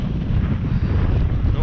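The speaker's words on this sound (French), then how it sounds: "si vous m'entendez pas, c'est normal, il y a beaucoup de vent" Strong wind buffets the microphone outdoors beside the water at a carp fishing competition, a loud continuous roaring rumble with gusty fluctuations and no break.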